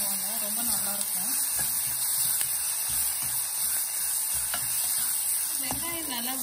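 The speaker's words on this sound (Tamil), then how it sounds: "வெங்காயம் நல்லா வதங்கிட்டுருக்கு." Onions sauté in a pan for a Chettinad eggplant side dish, a soft steady sizzle with occasional spoon scrapes and stirring taps, while a voice talks briefly at the start and end.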